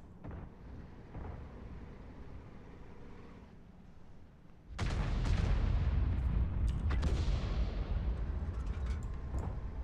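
A G.W. E 100 heavy artillery gun in World of Tanks booms, then a loud sustained roar and rumble of firing and explosions follows, dense and close.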